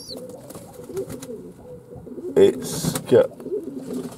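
A one-week-old baby pigeon gives soft, husky cooing and squeaky calls, close up, in short bursts while a person speaks over it.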